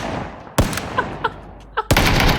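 Gunfire in the video game PUBG: several sharp shots, two loud bursts and a few fainter single cracks in between, over steady background game noise.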